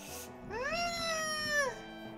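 A house cat lets out one long, drawn-out meow close to the microphone, rising and holding steady before trailing off, with quiet room tone around it.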